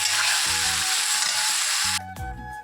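Chicken fries in a pan until reddish, a dense sizzle with faint music that stops abruptly near the end.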